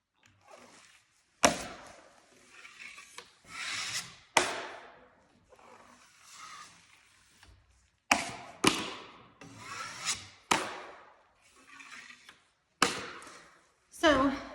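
A 10-inch knife spreading joint compound over vinyl corner bead, a run of scraping strokes with sharp taps as the blade meets the wall, close by, with a voice now and then between strokes.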